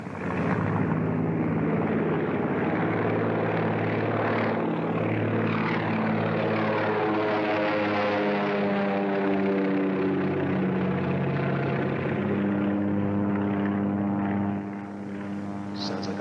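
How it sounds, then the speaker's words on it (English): A propeller plane from the 1930s flies overhead, its loud, steady droning hum rising and shifting in pitch as it passes, with a continuous engine roar filling the whole stretch. "Sounds like a plane."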